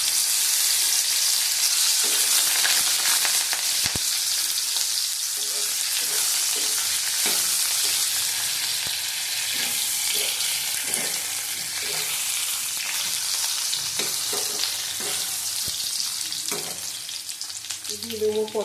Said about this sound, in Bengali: আলুটা দিচ্ছি, ভালো করে ভেজে নেবো।